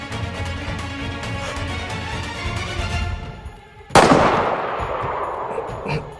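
In the DayZ video game, a sharp, loud gunshot cracks out over a rumbling, noisy battle backdrop, its report decaying with a long echoing tail.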